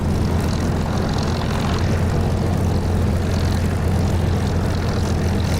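A Supermarine Spitfire's piston engine in the DCS flight simulator drones steadily and loudly at takeoff, a dense, unbroken roar with a deep low rumble that holds even throughout, with no voices.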